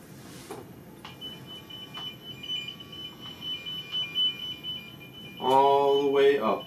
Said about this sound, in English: if that wire has continuity and you can hear the oscillating tone all the way